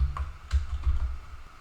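Keystrokes on a computer keyboard while entering a spreadsheet formula, a quick run of soft, close clicks and taps at an uneven rhythm with no talk.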